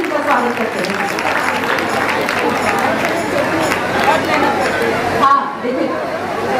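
Loud, dense applause from an audience at a Jain women's assembly during the Dasalakshan festival, with people clapping steadily for about five seconds before it cuts off, murmuring voices mixed in.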